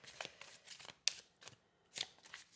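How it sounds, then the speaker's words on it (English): Tarot cards are shuffled by hand in quick, crisp riffling bursts, close and quiet, with short pauses between each pass and no talking. "So let me just shuffle through these really well"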